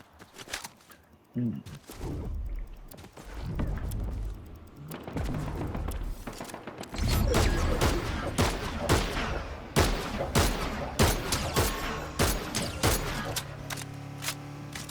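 Gunfire in a video game: sharp shots crack out repeatedly in irregular bursts over the second half, mixed with thuds and movement noise, while a player talks throughout.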